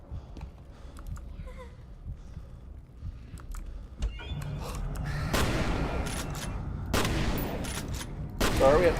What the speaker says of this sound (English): we have to shoot some ghosts here